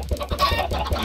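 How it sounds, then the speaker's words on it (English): Chickens in Minecraft cluck in a few short, close bursts over a low steady background, with no talk. "There are chickens in the cow pen."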